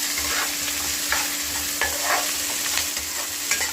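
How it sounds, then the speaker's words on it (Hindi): Chopped onions sizzle in a little oil in a pan with fenugreek, with occasional scraping stirs from a spoon cutting through the steady frying hiss. "और हमने इसमें प्याज छोड़ दिया।"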